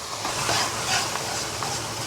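Bean paste, ginger, scallion and garlic frying in rapeseed oil in a wok, a loud, dense, continuous sizzle with stirring, no voices.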